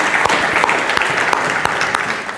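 Church congregation applauding in worship, a dense, steady wash of many hands clapping with sharp individual claps standing out, close and loud, no talk over it.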